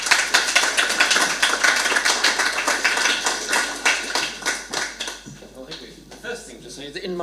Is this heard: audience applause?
yes